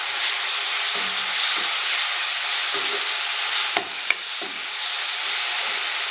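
Spiced vegetable mixture of green peas and moth beans with red chilli powder and garam masala, sautéed in oil in a pan; steady close sizzle with a few scrape and stir knocks, no talking.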